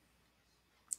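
Near the end, two quick sharp clicks of a computer mouse come while a 3D design program is in use. They are close and brief against a very quiet background, with no talk.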